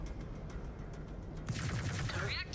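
Large pulse lasers on a Warhawk mech in Mechwarrior 5 fire in a rapid, buzzing stream of pulses over a background rumble, the burst growing sharper and louder in the final second.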